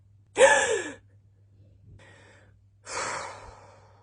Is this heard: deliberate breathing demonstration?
yes